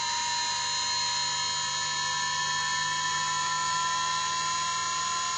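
A Muller motor driven by an outrunner motor spins at a few thousand RPM on a bench, giving a steady, loud, high mechanical whine with constant tonal hum throughout and no speech.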